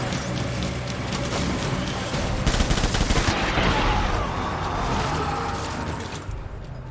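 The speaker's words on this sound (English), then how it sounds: "Open fire." Gunfire in the video game Death Stranding, a dense burst of rapid shots over a busy background, sharpest for about a second before fading into a lingering wash.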